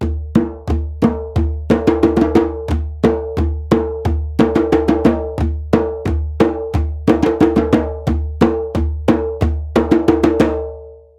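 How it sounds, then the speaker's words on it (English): Djembe drums beat a fast rhythm with sharp, ringing strikes in a quick, even pattern, played close and loud with no talk, carrying on for about eleven seconds before ending. "just listen to Tim and I playing the rhythm on the djembe"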